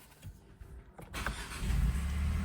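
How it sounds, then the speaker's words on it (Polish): A new Ford Focus engine cranks and catches after an immobilizer code is entered, settling into a steady running rumble close by, with no voices. "Auto odpala i możemy jechać."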